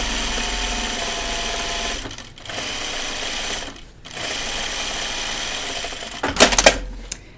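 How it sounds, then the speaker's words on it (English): A sewing machine runs a running stitch along the edge of a cut-away pocket with a steady, close mechanical whir and hum. It pauses briefly twice and ends with a sharper clatter, and no one speaks. "So I'm going to put a running stitch about 1/4 of an inch away."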